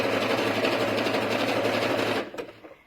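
A sewing machine runs steadily, zigzag stitching over a gathering thread with a fast rhythmic whirr, then stops abruptly, leaving a few small clicks and quiet handling noises.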